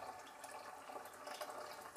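Running water splashes while mint, coriander and palak leaves are rinsed in a kitchen. The flow is a continuous, moderately faint, hissing patter with no talking.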